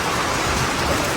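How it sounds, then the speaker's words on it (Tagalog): Steady heavy rain at a house construction site, a dense unbroken hiss of drops falling on surfaces, loud and close with no voices. "inabutan na kami ng ulan ni Ray."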